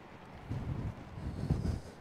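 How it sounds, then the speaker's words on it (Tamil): Gusty wind buffets the microphone in short, rumbling bursts while blowing snow on Mount Lemmon near Tucson, Arizona, faint and low with no voices. "அங்க பாருங்க ஸ்னோ அப்படியே அடிக்குது"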